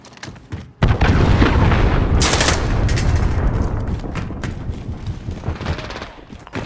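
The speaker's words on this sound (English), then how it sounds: "Cruise missile away." A cruise missile strike in Call of Duty Modern Warfare erupts as a loud, sudden blast followed by a sustained, rumbling barrage of explosions and gunfire that slowly tapers off.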